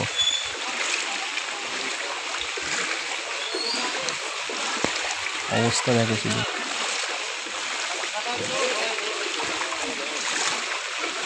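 Floodwater sloshes and splashes across a flooded road in a steady watery wash with a few sharper splashes midway, heard beneath a person talking throughout.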